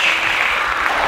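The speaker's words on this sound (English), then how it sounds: "Give him a little round of applause" Small audience applause for a musician, steady broadband clapping that fills the short stretch at an even level.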